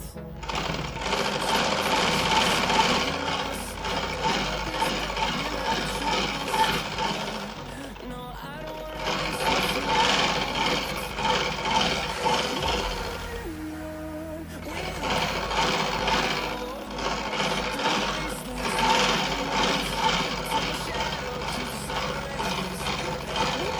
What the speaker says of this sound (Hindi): दूसरी सिलाई इससे आधा इंच की दूरी दे करके सीधे मारनी है हमको